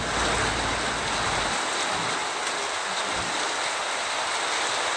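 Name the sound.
heavy rain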